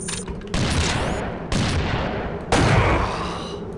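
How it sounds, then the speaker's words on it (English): Shotgun blasts in the first-person shooter Unreal 2, three loud, close booming shots about a second apart, each with a long decaying roar and no voices. "some guy is up there somewhere with a shotgun"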